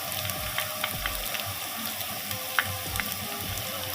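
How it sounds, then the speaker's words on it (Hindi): Onions sizzling steadily in a pan of hot oil while being fried for matar gosht, a peas-and-beef curry, with a constant crackling hiss and a few sharper pops, close and alone. "माशाल्लाह से प्याज बहुत अच्छे तरीके से सुर्ख हो चुका है।"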